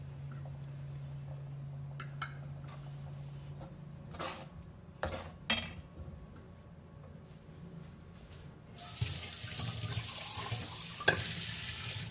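Water pours and splashes into a pan for paneer butter masala, with a few clinks of utensils and a steady background hiss.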